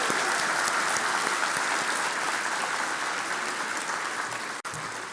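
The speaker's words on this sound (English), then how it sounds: "So round of applause for these matched students, class of" A large audience at a medical school Match Day ceremony applauds the matched class of 2024, with dense, steady clapping held at an even level throughout and a brief dip near the end.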